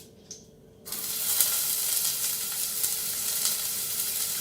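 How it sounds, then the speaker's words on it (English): Chopped onions hit about a tablespoon and a half of hot olive oil in a pan on medium heat. After a brief quiet moment a sudden, loud, steady sizzle starts and continues evenly, close up with no talk. "Do you hear that sizzling?"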